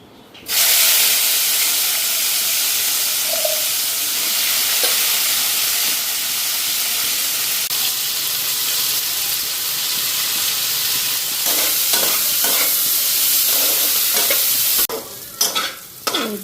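Bitter gourd fries in hot oil with a loud, steady sizzle and hiss that keeps going, broken near the end by a few stirring scrapes and clatters.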